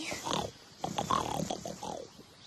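Cartoon space pig oinking and snorting in a run of short squeals and grunts, close and fairly soft, with no talk over it.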